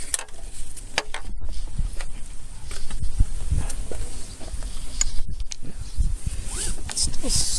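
A cleaned car seat belt retracting, giving a raspy, zipper-like sliding whir with mechanical ticks that runs steadily and up close throughout.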